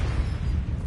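A Confringo blasting spell explodes in Hogwarts Legacy, a dense, loud, low rumbling burst that fills the whole brief moment without any talking.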